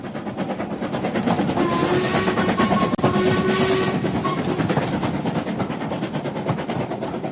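A train travels on the rails as a radio drama effect, a dense continuous rumble with steady wheel clatter and faint whistle tones, loud and close, with a brief dip midway and no voices.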